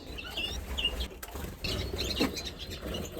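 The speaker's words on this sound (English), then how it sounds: "We've got the pair of Siberian bullfinches and the trio of Siberian goldfinches in this flight cage." Siberian bullfinches and Siberian goldfinches moving about a flight cage, with soft wing flutters and a few faint chirps against quiet background noise, all fairly distant and low.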